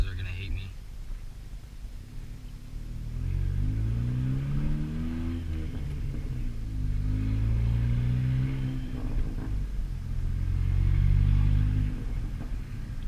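A 10th-generation Honda Civic Si with a catless downpipe drones loudly through its exhaust, revving up and easing off in several long, deep swells, with a voice talking over the engine.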